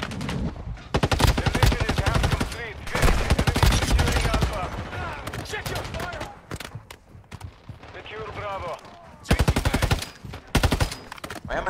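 Automatic gunfire in the Warzone Mobile video game, with rapid bursts of close, loud shots separated by short pauses and a long gap before a final burst, while a voice talks over the firing.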